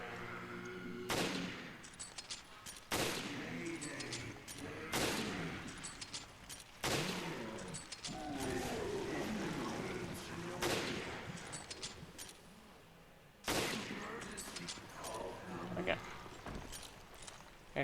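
Sniper rifle shots in Resident Evil Revelations ring out one by one every couple of seconds, loud and sharp with reverberant tails, while someone talks over them throughout.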